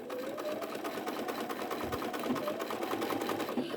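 A sewing machine stitches steadily along the bottom edge of a quilt block, a close, continuous mechanical whir with a brief pause and change near the end as it reverses to lock the stitches.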